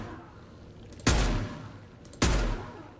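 Two heavy hand cannon shots ring out in the Mass Effect 2 video game, each a sharp loud blast with a short decaying tail, about a second apart, with no speech.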